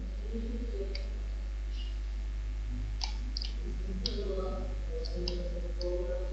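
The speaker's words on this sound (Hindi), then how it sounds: "मैंने इस पर क्लिक किया" A computer mouse clicks while someone works in Microsoft Word, giving several sharp, scattered clicks over a steady low hum as a voice speaks in the background.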